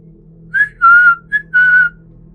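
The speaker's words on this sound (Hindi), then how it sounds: "सीटी मारकर बुलाओ" A person whistles to call dogs: four short, clear, high whistle notes in quick succession, close and loud over a low steady background hum.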